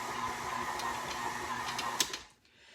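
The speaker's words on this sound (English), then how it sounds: "pumping on the manual food processor" A manual food processor being pumped by hand while making holiday cookies, giving a steady mechanical whirring and ticking churn at close range that runs evenly, then halts abruptly near the end.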